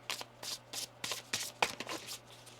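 Tarot cards are shuffled by hand in a quick series of crisp, papery riffling bursts, about eight or nine close, distinct strokes in an uneven rhythm, with no talking.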